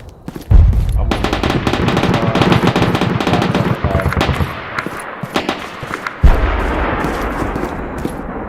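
An AK-74 rifle fires in a video game: loud, rapid automatic bursts that continue almost without pause, break off briefly, then resume with another heavy burst.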